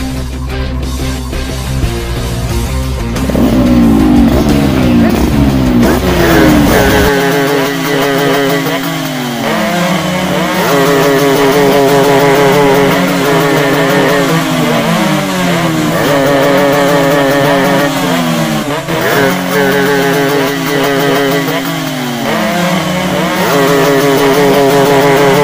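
Gang motorcycles in an animated school drama rev loudly and without a break, the engine pitch rising and falling again and again, alone with no voices.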